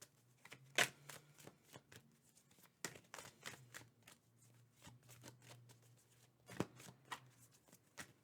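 Tarot cards are shuffled close by in a quiet room, making soft riffling flicks and sharp irregular snaps, with a faint low hum underneath.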